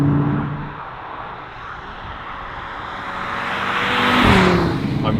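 An Audi RS3 drives along a wet, slippery road, its engine and tyre noise a steady broadband rush that swells as it picks up speed near the end, with a brief rising tone over it.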